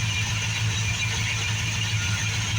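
A 1957 Chevrolet Bel Air engine idles steadily and loudly up close, with a low, even rumble and a faint lope throughout, and no talking.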